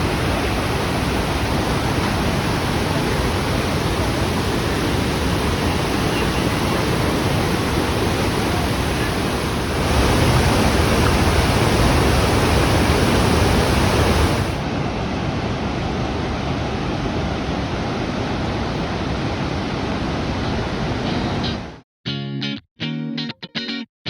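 Roaring waterfall at a famous falls, a dense continuous broadband rush that stays loud and steady for over twenty seconds, briefly swelling midway, then breaking into short choppy bursts at the end.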